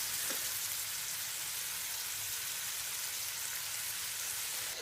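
Fifty millilitres of wine hisses and sizzles steadily in a hot pan for a homemade pasta carbonara, a constant, fairly quiet frying sound with no talking.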